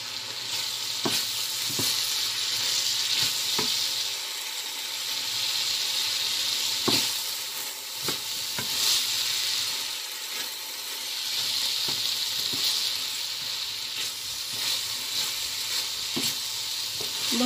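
Broccoli and carrot pieces fry and sizzle steadily in a pan, with a soft continuous hiss broken by scattered clicks and clacks of stirring, close and fairly quiet, with no talking.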